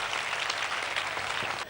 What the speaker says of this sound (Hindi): ये जोरदार तालियां सबके लिए।